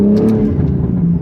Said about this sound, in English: It also has a T51R mod, so the turbo sounds really cool.